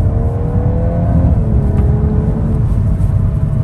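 A Volkswagen Golf 8 R accelerating, its engine tone climbing steadily under a constant loud road and wind roar heard from inside the cabin.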